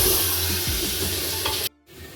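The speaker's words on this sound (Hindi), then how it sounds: "तो कम से कम मैंने इसको 3 मिनट तक इस तरीके से भूना है। चिकन अच्छे से भून चुका है" Chicken in yogurt frying and being stirred for biryani: a steady loud sizzle with low scraping stirs, cutting out abruptly near the end before a faint hiss returns, no voices.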